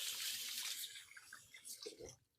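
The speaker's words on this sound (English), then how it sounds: "So I'm going to give my hands a quick rinse" Hands are rinsed under a running kitchen tap, a steady hiss of flowing water that breaks into splashes and trickles before the tap is shut off, fairly close and moderately loud.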